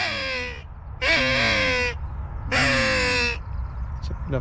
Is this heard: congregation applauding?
no